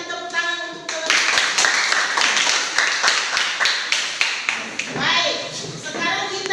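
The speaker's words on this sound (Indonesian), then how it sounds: "Berikan tepuk tangan untuk teman-teman." Applause from a classroom audience of teachers during a group discussion session, a burst of clapping running from near the start to the end, with children's and adults' voices mixed in.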